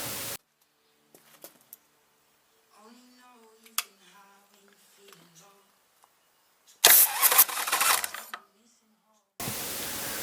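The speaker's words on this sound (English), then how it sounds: "Now just going to turn the motor over a couple of times." A big-inch Harley custom with an open belt drive primary is cranked over on its starter motor, giving a short, loud whirring burst after quieter mechanical clicks and handling noises.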